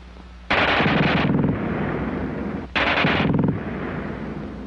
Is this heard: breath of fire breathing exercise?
no